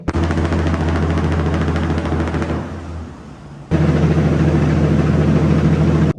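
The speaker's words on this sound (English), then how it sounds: "engine brakes just sound so good in a tunnel" A heavy truck's engine brake rattles loudly in rapid staccato bursts, echoing inside a tunnel in southern Alberta, dropping briefly before roaring back at full force.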